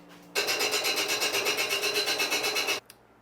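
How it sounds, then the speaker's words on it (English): A smoothing plane's sole is rubbed lightly back and forth on a 300 grit diamond stone, a steady close rasping scrape with quick regular strokes lasting a couple of seconds, then a single small tap. "I just went real light on a 300 grit diamond stone"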